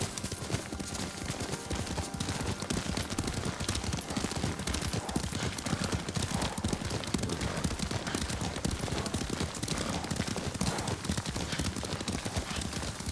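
Rapid, steady clip-clop of galloping horse hooves in the video game Ghost of Tsushima fills the whole stretch, loud and continuous, with a dense rumble of movement underneath and no talking.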